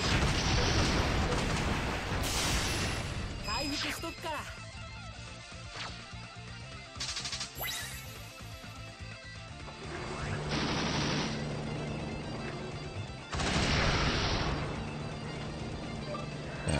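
Repeated booming blasts and crashing impacts from cannon fire in the video game Metal Max Xeno, some loud bursts standing out over a dense continuous rumble.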